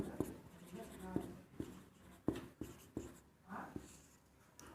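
Chalk or marker tapping and scratching on a board during a Class 10 maths lesson on real numbers, a series of sharp strokes spaced irregularly, moderately close, with soft background room sound.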